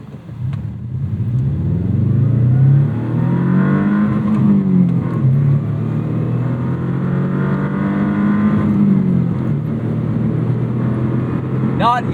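A 2001 Subaru Impreza 2.5RS accelerating hard, its engine note rising and falling loudly and close through a full pull for about twelve seconds, with no talk over it.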